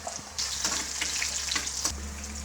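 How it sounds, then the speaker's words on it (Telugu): Garlic and spices tempering in hot oil over a low flame, a close, steady crackling sizzle with a low hum underneath and no talking. "చిన్న మంట మీద మనం తాలింపు పెట్టుకోవాలి"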